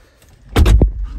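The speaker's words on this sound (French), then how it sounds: "Cette fermeture de porte" A car door, on a new car headed for Brabus tuning, shuts with one short, solid thud up close, followed by a quick settling knock.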